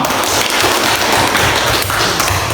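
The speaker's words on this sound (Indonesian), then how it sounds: "Tepuk tangan untuk kita semua" A classroom of students applauds together, a steady dense wash of clapping that stays loud and even throughout.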